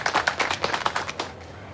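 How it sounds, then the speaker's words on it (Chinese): A short burst of audience applause: a dozen or so quick, scattered claps close by that thin out and fade within two seconds. "来，大家掌声鼓励！"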